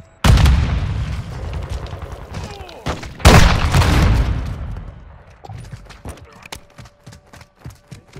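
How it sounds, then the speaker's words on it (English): Semtex grenades go off in a shooter video game: two heavy, close booms a few seconds apart, each with a rumbling tail, followed by scattered sharp gunfire pops. "Semtex out!"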